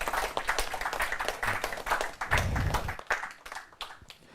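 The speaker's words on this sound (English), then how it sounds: "A round of applause for them." Audience at a university law challenge competition claps in a round of applause for a team, a dense burst of hand claps that swells midway and then thins out into scattered claps.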